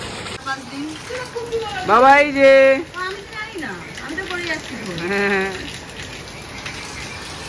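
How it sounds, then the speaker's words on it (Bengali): Steady rain hisses in the background while a child and an adult talk over it. "এবার এই যে শুরু হয়েছে আর থামছে না, প্রতিদিন বৃষ্টি"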